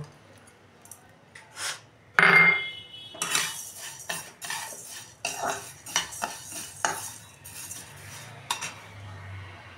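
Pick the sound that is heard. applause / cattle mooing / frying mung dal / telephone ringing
frying mung dal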